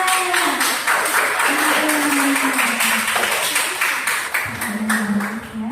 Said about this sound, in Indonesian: Beri tepuk tangan yang kedua.